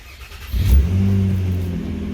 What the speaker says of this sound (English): And when we start the car up,